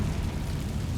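Confringo fire spell blast in Hogwarts Legacy: a short, dense, rumbling fiery burst with a heavy low roar.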